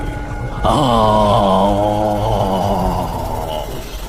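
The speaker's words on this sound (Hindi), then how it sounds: "तभी तांत्रिक बाबा की एक दर्दनाक चीख फिजा में गूंजी।" A tantric holy man lets out a long, pained scream that echoes; the wailing voice rises abruptly, wavers in pitch for a few seconds and then fades.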